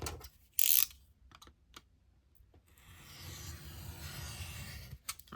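A craft knife drawn along a ruler slices through paper, a few light taps and a sharp rustle, then a long, steady scraping cut, close and quiet.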